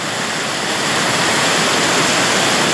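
Strong current of the Riacho do Mel stream rushing at its waterfall in rural Olivença, Alagoas, a steady, loud, even roar of water with no voices.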